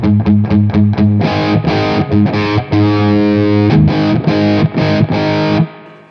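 An electric guitar plays through a Tech 21 Trademark 60 amp with the drive turned up, giving loud, close distorted chords in short rhythmic stabs and a sustained ring before the sound cuts off near the end.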